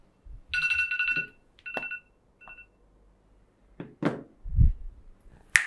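A mobile phone sounds a short burst of bright electronic ringtone tones in a quiet classroom setting, followed by a few soft knocks and handling thumps nearby.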